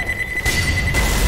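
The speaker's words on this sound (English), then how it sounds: "Throwing a pipe bomb." A pipe bomb blast in Left 4 Dead 2 lands as a single loud, close boom that rumbles in the low end over a steady tone and game noise, with no talking.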